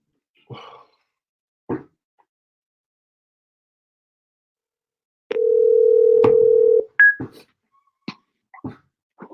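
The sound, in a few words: telephone dial tone and dialing a call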